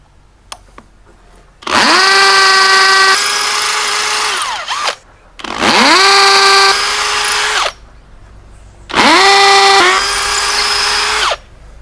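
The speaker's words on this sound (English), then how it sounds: "I'm just gonna put the wood down and drill the holes" A power drill whirs through wood in three long bursts, each revving up to a steady high-pitched whine and then winding down, loud and close.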